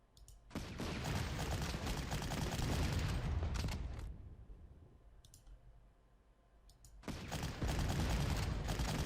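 Bursts of rapid gunfire in the Panzer Corps strategy game as units attack Polish infantry: a long dense clatter, a quieter lull with a few faint pops, then another loud burst.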